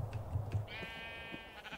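A single sheep in Minecraft gives one short, wavering bleat. It is clear and close, set between soft thumps and game sounds.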